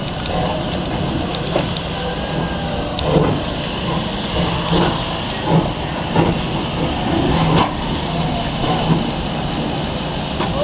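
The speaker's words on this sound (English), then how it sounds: "And here comes St. Mary's Wild West Express" The St. Mary's Wild West Express steam train, pulled by Lehigh Valley 126, rumbles steadily into the station as a low mechanical drone, with rhythmic clanks and bursts of chuffing rising above the continuous noise.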